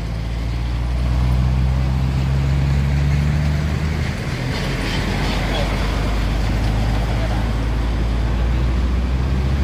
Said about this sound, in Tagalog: So grabing traffic.